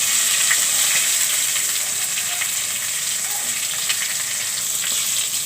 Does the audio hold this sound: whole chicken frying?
yes